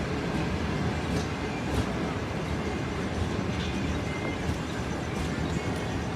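A train arrives at Lala Musa Junction railway station in Pakistan with a steady, dense rumble and clatter of wheels on track, continuous and fairly close throughout with faint rhythmic knocks.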